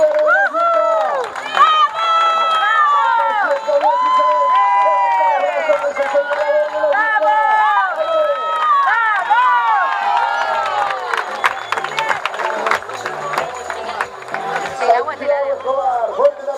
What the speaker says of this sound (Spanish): El aplauso de todos, quiero escucharlo todos aplaudir.